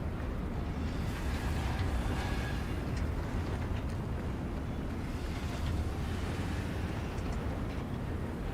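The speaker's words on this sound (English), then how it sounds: "Windy." Wind in the Star Citizen game blows as a steady low roaring rush, fairly faint and constant, with no talking.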